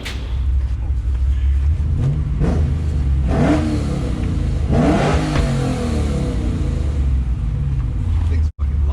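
A loud V8 revving hard, from a tuned BMW E90 M3 or a 450+ whp LS3 Chevy Colorado with a small exhaust, rising in repeated sweeps over a steady rumble, with people talking over it.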